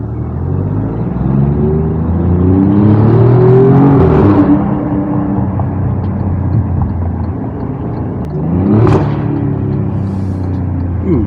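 An Alfa Romeo Giulia Quadrifoglio fitted with a TFL X-pipe exhaust downshifts twice, each time with a loud rising rev blip and a rumbling, burbling exhaust note that echoes close by.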